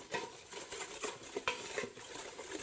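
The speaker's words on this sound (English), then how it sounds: "Simply stir in that flour, break up any lumps that you see in the pan." Flour is stirred into hot fat in a pan to make a roux for gumbo, giving quiet, close scraping and spoon-on-pan clicks in an irregular rhythm, with a soft sizzle beneath and no talking.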